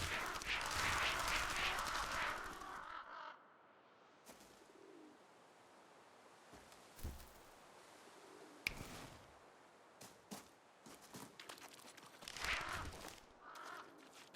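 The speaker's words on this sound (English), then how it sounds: "I hear like an owl." An owl hoots softly in the video game REKA, with low calls drifting among quiet forest ambience, broken by louder rustling bursts at the start and toward the end.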